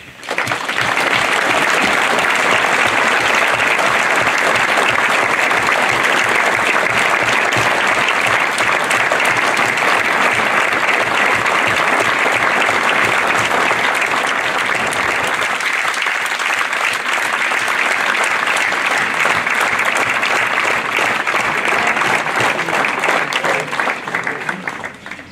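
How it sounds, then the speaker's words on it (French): A large outdoor crowd at a memorial tribute in Auron to the victims of the Nice attack applauds steadily, a dense, loud wave of clapping that holds for the whole stretch with a brief dip midway. "on va applaudir nos victimes."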